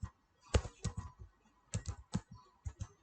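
Quick bursts of keystrokes on a computer keyboard while a folder and a JavaScript file are created, clustered clicks separated by short pauses, close and clear with no voice.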